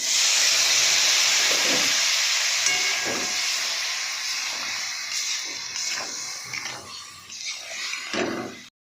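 Water poured into a hot cooking pan after the masala has been browned, raising a loud, steady steam hiss that slowly fades while faint clinks and scrapes come through near the end.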